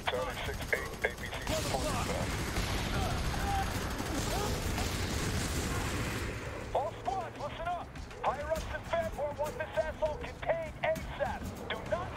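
Enemy gunfire in F.E.A.R. 3 co-op, dense rattling shots filling the first half, then easing off as voices talk over quieter background noise.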